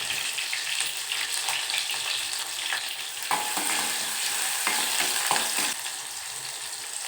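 Green chilies and tomato fry in hot oil for a Telugu street-style snack, a steady bright sizzle with scraping stir strokes and occasional louder crackles, close and continuous with no talking.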